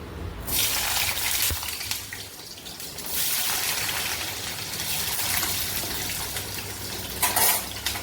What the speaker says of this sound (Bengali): এবার আমি এই তেলের মধ্যে আলুগুলো দিয়ে দিচ্ছি।